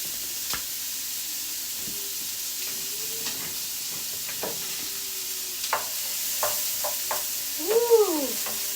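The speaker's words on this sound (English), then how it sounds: "so butter's melted, ready for my peppers and celery and onion" Peppers, celery and onion dropped into hot melted butter give a soft, steady sizzle with occasional stirring clatter, close and fairly quiet, with no one talking over it.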